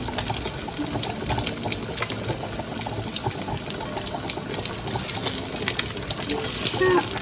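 A pot of potatoes for mashed potatoes boils hard on a stovetop, giving a close, continuous bubbling and rushing churn with no break.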